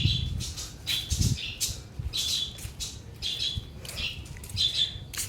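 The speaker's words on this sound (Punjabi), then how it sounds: "ਇੱਕ ਆਪਣਾ ਨਾ ਚਿੜੀ ਦਾ ਬੱਚਾ ਬਿਮਾਰ ਹੋ ਗਿਆ ਵਿਚਾਰਾ" Rapid high-pitched chirps and squawks from a sick sparrow chick repeat in bursts, close by, with low rustling and thumps underneath.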